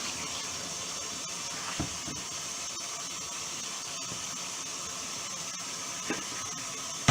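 Tap water runs in a steady faint hiss while oxtail is rinsed under it, with a couple of soft knocks and splashes breaking through the flow.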